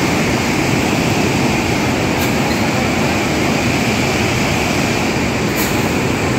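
Hot spring water at Manikaran behind a temple, a loud, constant roar of rushing, gushing water that fills the scene without pause.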